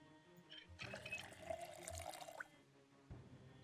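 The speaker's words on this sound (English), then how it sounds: "we'll just fill up at the sink." A sink tap in the zombie survival game Project Zomboid runs water into a basin for about two seconds, a close, splashing flow that starts abruptly and cuts off, followed by a brief thump.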